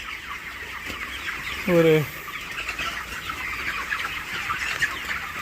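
Poultry chicks in a shed on their 27th day: one loud, close rooster-like call rises above a constant chorus of clucking and chirping, and someone says a single word.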